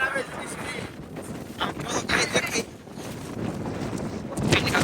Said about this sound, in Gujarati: જોરદાર નો પવન આવે.